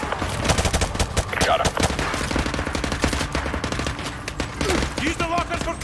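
Rapid automatic gunfire in a Call of Duty Modern Warfare Remastered firefight inside a Russian gulag locker room, dense overlapping bursts filling the whole stretch, with brief shouted speech over the shooting.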